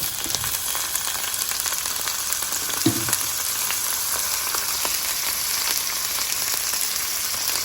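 Chopped cherry tomatoes fry in hot oil with a steady, even crackle throughout, plus one brief stir or clatter near the middle.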